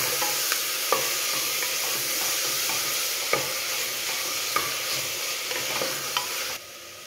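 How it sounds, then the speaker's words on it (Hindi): Tomatoes sautéing in a pan for creamy restaurant-style tomato soup, a steady loud sizzle with scattered spoon clicks and scrapes against the pan, and no talk. "अब सबसे लास्ट में हम टमाटर डालेंगे, इसको भी अच्छे से भून लेंगे।"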